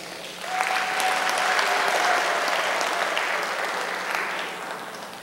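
An audience breaks into loud, sustained applause after a speech, a dense wash of clapping that swells and then slowly tapers off.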